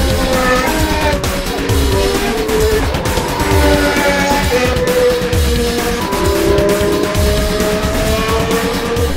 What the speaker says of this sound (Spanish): Vamos a disfrutar de esta energía única que solamente nos brindan los motores de la Fórmula 1